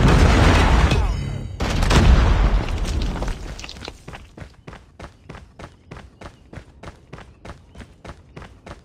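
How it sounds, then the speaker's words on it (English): A predator missile strike in Call of Duty Mobile lands as a loud, booming blast with a heavy rolling rumble, then gives way to a steady run of evenly spaced sharp pops. "Predator missile inbound."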